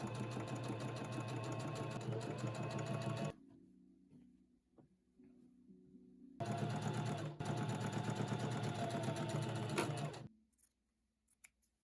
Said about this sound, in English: take this to your sewing machine and sew it together with a 1/2 inch seam allowance